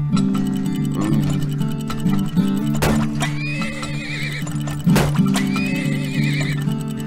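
Horses in the video game Turmoil neigh and whinny over steady clip-clopping hooves, with two sharp louder whinnies standing out against a constant hum of game music and machinery.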